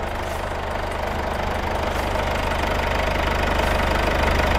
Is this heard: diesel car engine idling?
yes